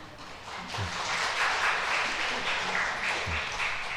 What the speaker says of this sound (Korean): 그럼 박수로 좀 환영해 주시고요